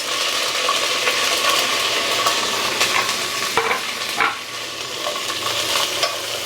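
Onion sizzles and crackles steadily in hot oil while being stirred for wheat rava upma, with scattered scraping clicks of a spoon against the pan, close and alone.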